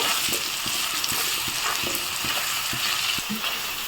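Pieces of taro root dusted with turmeric fry in oil in a pan with a steady close sizzle, while a utensil stirs them with regular scraping taps against the pan.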